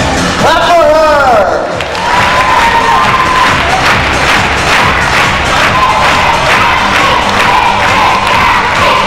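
Children at a school jump rope fitness event clap and cheer loudly for a performer, with excited shouts and a rising voice at the start over sustained rhythmic clapping.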